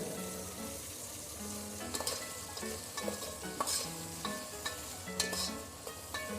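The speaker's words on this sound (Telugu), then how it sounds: "ఉల్లిపాయలు బాగా మగ్గి కలర్ మారిన దాకా చూసుకుందాం, గోల్డెన్ కలర్ వచ్చిన దాకా వేపుకుందాం" Onions fry in a pan for veg biryani, a steady close sizzle broken by scraping stirs and light clinks of the spoon against the pan, with no talking over it.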